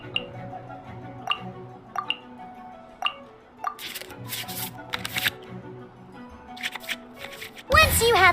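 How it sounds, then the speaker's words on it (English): Card-shuffle and card-draw effects in the Genshin Impact digital card game: a series of crisp, repeated card flicks and swishes at a steady rhythm, ending in a brighter flourish, loud and close over background music. "we can select any number of cards in our hand to shuffle back into the draw pile"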